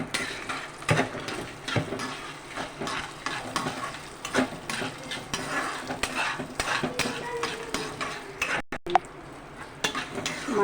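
Dry red chillies fry in oil in a pan while being stirred, a steady soft sizzle broken by repeated scraping strokes and clinks of the spoon at a close, moderate level.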